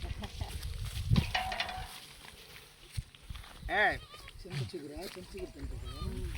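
Goats bleat a few times, close by, in a village in Srikakulam, amid rustling and movement, with people talking over and between the calls.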